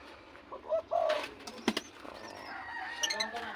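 Pet birds, including lovebirds, give a few short calls and coos close by, with a brief flutter of wings in the middle.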